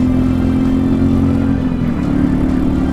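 A Royal Enfield Meteor 350 single-cylinder engine pulls hard, accelerating onto a dual carriageway with a steady, loud, throbbing drone and wind rush heard from the rider's position.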